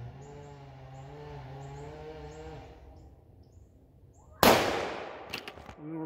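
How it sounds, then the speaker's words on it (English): A Howa 1500 rifle firing ELD Match ammunition lets off a single loud, sharp crack that rings out and decays over about a second, preceded by a low droning hum and followed by faint clatter. "Now we're going to shoot the top left bullseye"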